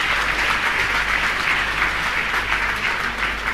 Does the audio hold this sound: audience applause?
yes